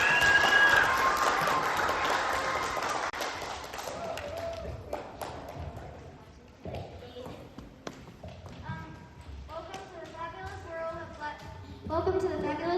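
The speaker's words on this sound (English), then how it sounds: "Round of applause for Lou Furman." Audience applause for a presenter at a band presentation event, a broad wash of clapping that fades after a few seconds into quieter room sound with voices.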